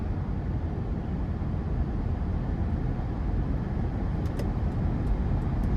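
2017 Toyota Land Cruiser with a 5.7 V8 in manual shift mode accelerating out of a corner, heard from inside as a steady, dense engine and road rumble that holds evenly throughout.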